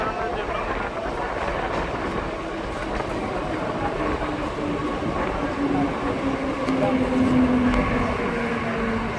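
A MEMU train on the Katwa–Ahmedpur line rumbles steadily at Katwa railway station, a continuous loud hum and rattle with a rising tonal whine late on and voices mixed in beneath.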